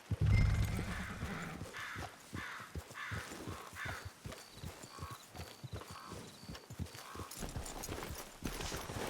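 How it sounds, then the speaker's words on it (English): Horse hooves clip-clopping at a steady walk in the video game Red Dead Online, near and fairly loud, with a brief neigh and crow-like caws over outdoor ambience. "It's your horse."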